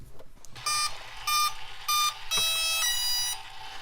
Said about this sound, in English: Those are servos, and they just kind of make some noise.